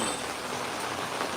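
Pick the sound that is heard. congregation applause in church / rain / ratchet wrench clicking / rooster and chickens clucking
rain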